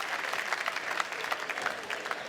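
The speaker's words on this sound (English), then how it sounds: "It's got to be a rowdy applause for what was a quite outstanding third game between these two" Crowd at a U.S. Open squash match applauding after a long third game, a steady wash of clapping from a packed audience, fairly distant and even throughout.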